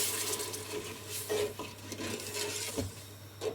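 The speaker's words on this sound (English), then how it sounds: "Now I'm going to add the half cup of milk to the jars and just let all this melt." Milk and sugar simmering together in a pan on low flame, thickening toward a syrup for sweet rice: a soft steady bubbling hiss with a few light scrapes and stirs of a spoon, close by and unaccompanied.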